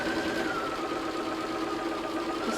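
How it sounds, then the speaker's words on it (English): A sewing machine runs steadily in one continuous stitching pass, attaching part of a handmade yin-yang purse, with a close, even motor hum and no voices. "Just sewing this so that it's attached."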